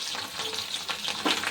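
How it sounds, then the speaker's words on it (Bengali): Capsicum and onions sizzle in hot oil in a pan, a quiet continuous hiss with small crackles and a brief stirring flare near the end. "এবার আমি ক্যাপসিকাম, পেঁয়াজ এগুলো ভেজে নিচ্ছি।"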